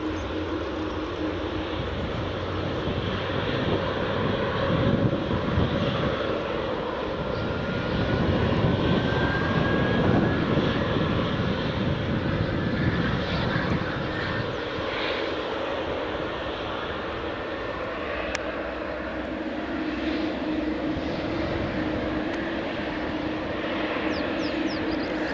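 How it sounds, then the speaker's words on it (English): A Jet2 Airbus A321 departs from runway 24 at Edinburgh Airport in the early morning, its engines a broad, steady roar heard from a distance that swells and eases over nearly half a minute. "A321 just about to depart."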